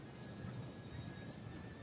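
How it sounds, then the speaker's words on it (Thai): Rain falls steadily at a fishing pond, a soft, continuous patter spread evenly across the whole moment with no other distinct sounds. "มานั่งปุ๊บฝนแม่งตกปั๊บเลย"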